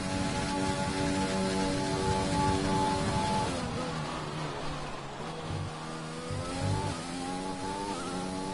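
A Williams Formula 1 car lapping in a Russian Grand Prix racing video game, its engine a steady high-pitched whine that shifts through gears and revs, continuous and fairly loud with no talk.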